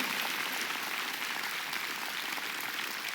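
Church congregation applauding during a sermon, a dense, even wash of clapping that holds steady and fairly loud for the whole stretch with no voices over it.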